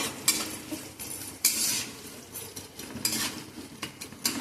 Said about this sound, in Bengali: কিছুটা পেঁয়াজ আমি এখানে ভেজে নেবো লাল লাল করে।